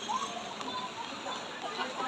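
Floodwater sloshes and splashes steadily in front of San Roque church in Navotas during a storm-driven high tide, a continuous wash of water noise with faint voices nearby.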